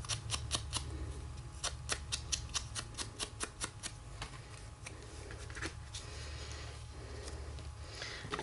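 Scissors snipping out a small 3/8 inch paper circle for a stamped card, a steady series of close, crisp clicks that slow and fade over a low hum of room noise.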